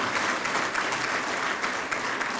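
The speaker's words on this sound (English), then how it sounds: "Give him a round of applause." A crowd at an anniversary gala applauds, producing a continuous, moderately loud patter of many hands clapping with slight swells, no voices over it.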